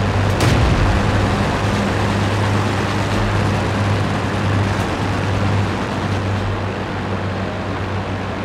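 A Churchill VII tank's main gun fires once in a World of Tanks battle: a sharp boom right at the start, then a loud steady engine drone and low hum that keep going.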